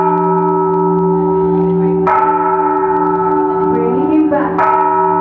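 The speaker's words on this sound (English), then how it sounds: "the church bells rang." Church bells ring with a sustained, richly layered tone, one loud new strike near the two-second mark and another toward the end, each adding to the fading resonance of earlier peals.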